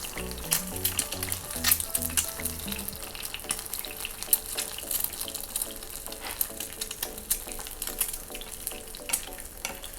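Steady, crackling sizzle of food frying in a hot pan on a gas stove, busy and continuous, with a few clinks and stirring noises, no voices.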